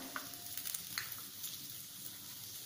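Faint, steady sizzle of beans and pigeon peas stir-frying in masala for a vegetable bhaji, broken by a few soft scraping stirs.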